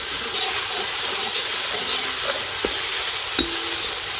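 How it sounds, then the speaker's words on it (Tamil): Mustard seeds sizzle in hot oil, a steady dense frying hiss close up. A few faint pops and ticks rise above the constant crackle. "எண்ணெய் காஞ்சிச்சு, கடுகு போடுறோம்."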